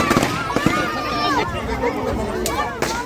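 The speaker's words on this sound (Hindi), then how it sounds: "यहाँ पर रावण जल रहा था, और पटाखे फूट रहे थे।" Firecrackers pop and crackle in several sharp bursts during a Ravan Dahan effigy burning at a Dussehra garden gathering, under a steady crowd hubbub with chatter and shrill whistling streaks of rising fireworks.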